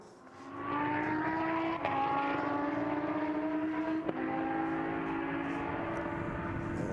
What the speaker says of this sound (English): the V10 Audi makes its way past the Flat 6 Porsche